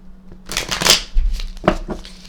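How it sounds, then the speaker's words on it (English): Playing cards are riffled and shuffled in a few quick, crisp bursts, close by, with soft handling noises between them. "let's shuffle this out."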